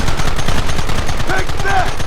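Rapid gunfire in the Red Dead Redemption video game, loud, dense bursts of shots crackling without pause, with faint whistling game effects layered on top.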